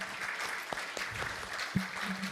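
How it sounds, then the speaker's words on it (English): Audience applause at a tech conference rises as a soft, distant patter of clapping with a few sharper thumps, fairly quiet throughout. "Round of applause for Andy Smith first"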